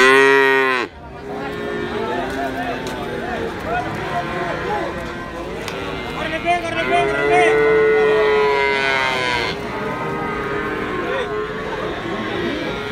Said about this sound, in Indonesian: Ya ini juga ada sapi limusin.